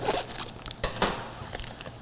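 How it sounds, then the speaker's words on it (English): Scissors cutting open a bag of hot mac and cheese, a short crisp snipping and rustle of plastic close by, no speech. "All we have to do is cut our bag open."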